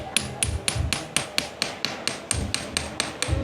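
A hammer strikes a chisel cutting into a large block of cheese, about fourteen sharp metallic taps at a steady, fairly quick rhythm, close and clear with no talk.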